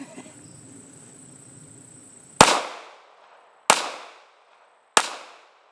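Three sharp, close gunshots from a Ruger LCP pistol crack out about a second apart, each decaying quickly, after a stretch of quiet background with faint insect-like buzzing.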